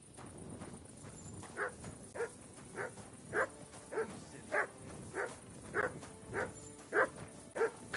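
A dog in the video game Kingdom Come: Deliverance 2 barks in a steady series of about a dozen evenly spaced single woofs, moderately close, over a quiet ambient background.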